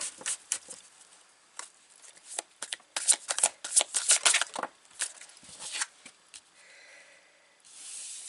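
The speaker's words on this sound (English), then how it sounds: "I'm going to grab the Pulp Tarot. We're going to pull out all the cards." A brand-new Pulp Tarot card deck is shuffled up close, a run of quick riffling flutters and papery slaps that swell midway and then trail off into a soft hiss.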